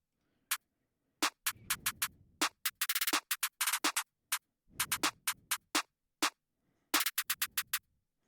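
Layered snare patterns in a trap beat built in FL Studio, stacked snares firing in dense rapid rolls and syncopated bursts over low rumbling thumps, crisp and upfront with no voices.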